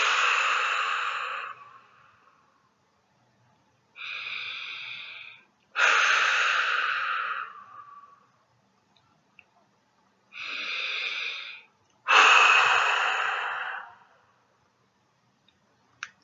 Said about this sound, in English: clearing breaths.